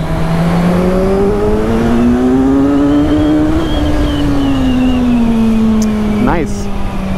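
A Kawasaki Z1000SX motorcycle engine drones loud and close inside a tunnel on a highway ride, its pitch climbing steadily then easing off, with a brief rev blip near the end.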